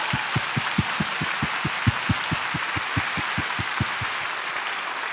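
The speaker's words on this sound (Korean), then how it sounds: "먼저 우리 하나님께 뜨거운 박수로 영광 올려드릴까요?" A church congregation at a Bible recitation contest claps in unison, a run of about eighteen evenly spaced, rhythmic claps over a low room murmur, with the last few trailing off.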